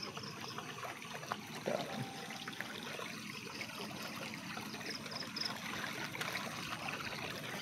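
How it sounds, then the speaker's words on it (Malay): Faint, steady rush of water flowing in a stream where large patin catfish are found, a continuous soft trickle and burble with no clear voices. "Di belah sana tu dekat air mengalir"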